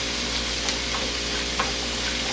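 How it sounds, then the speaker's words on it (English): A tomatoey chayote squash stew sautés in a pan, a loud, even sizzle and hiss with a couple of faint ticks, no voices. "this stuff is going to saute in the pan for about 5 to 7 minutes"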